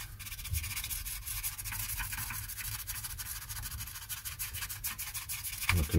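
Grime is scrubbed off the contacts of a Sega Mega Drive cartridge port in quick, steady rubbing strokes, a close, dry scratching with no voices present.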